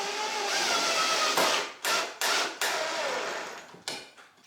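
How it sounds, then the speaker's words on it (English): A power driver sinks screws into wooden boards, whirring in several bursts that each cut off abruptly, loud and close with no talk. "go ahead and screw it in from the ends"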